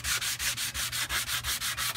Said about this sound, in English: So right now I'm using the rasp file